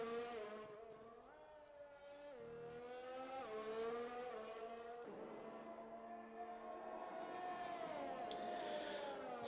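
McLaren race car in a racing video game at Abu Dhabi, engine note rising and dropping through gear changes in a continuous close whine, with faint tire noise and no talk.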